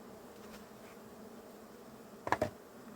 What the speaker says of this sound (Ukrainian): Бджоли, які опудрені, висипаємо назад у булик.